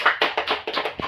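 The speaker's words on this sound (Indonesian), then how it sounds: "Kita beri tepuk tangan yuk buat teman-teman kita." Schoolchildren in a classroom clap for their classmates, giving a quick, rhythmic run of about seven sharp, close claps in just over a second.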